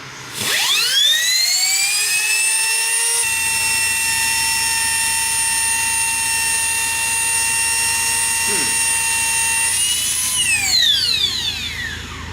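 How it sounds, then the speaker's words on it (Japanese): A high rotary grinder whine spins up and runs steadily for about ten seconds, then winds down, as a Nissan L-series engine rocker arm is ground and polished close by. "まあちょっとつべこび言わずに研磨します。"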